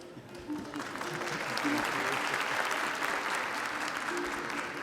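Audience applause at a Caucasian cultural night in Kayseri, a broad sustained wash of clapping that swells after the first half-second and holds steady, with faint voices mixed in.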